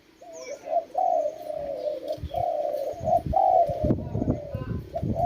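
A spotted dove coos repeatedly in a soft, rolling rhythm, close by, while people talk in the background.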